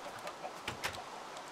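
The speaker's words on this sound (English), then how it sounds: "a farm for chickens" Faint, soft clucks from chickens in a farm pen in the Minecraft video game, a few short scattered calls over a quiet background.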